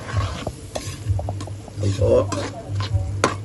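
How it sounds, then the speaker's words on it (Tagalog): Chopped onions sizzle in a hot pan for a vegetable dish, with scraping stirs and clattering cookware throughout and a brief spoken word. "At ngayon, lalagyan na po natin ang ating sibuyas. Simulan natin ang ating pagluluto."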